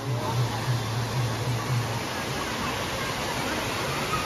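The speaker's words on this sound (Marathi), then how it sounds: "सही आहे नॅचरल वॉटरफॉल" A natural waterfall at Sahastradhara near Dehradun pours in a dense, steady roar of falling water. A faint low hum runs under it for the first half.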